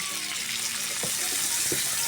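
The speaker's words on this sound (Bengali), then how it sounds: "ভাজার মধ্যে সামান্য পানি দিয়ে দেব।" Steady broadband hiss of water running and splashing into a frying pan of fried ginger and garlic, with a couple of faint clinks, continuous and close throughout.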